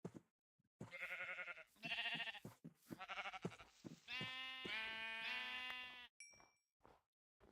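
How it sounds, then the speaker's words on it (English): Sheep in Minecraft, Better Than Wolves modpack, bleat in a run of several clear, nasal, wavering calls, loud and close, one after another, with short pauses and no talk over them. "I did see the sheep here,"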